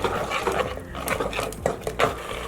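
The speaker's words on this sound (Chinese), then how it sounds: "将切好的肉丁倒入锅内，翻炒均匀" Diced pork stir-fried in oil inside a rice cooker pot: steady sizzling and frying hiss with repeated scraping and clinking of a spatula against the pot, close and fairly loud.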